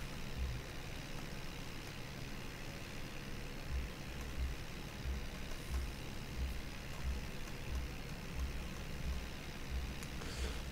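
Mahindra tractor engine droning steadily while baling corn silage in Farming Simulator 22, a low continuous rumble with a faint rhythmic thump from the baler and no talking.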